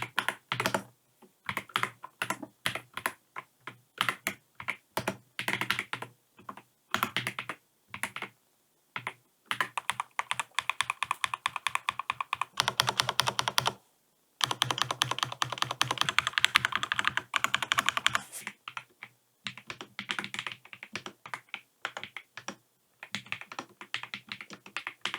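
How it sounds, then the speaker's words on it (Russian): An Akko ACR Top 40 mechanical keyboard, heard both stock and modded, is typed on up close in quick clacking bursts separated by short pauses, with no talking. "Вот вам стоковый звук этой клавиатуры до моддинга и после"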